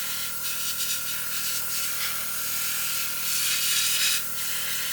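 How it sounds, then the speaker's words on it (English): A Gaahleri Serenair airbrush sprays paint with a steady, close, airy hiss that holds at an even level throughout with slight swells in intensity. "It's quite a nice little airbrush."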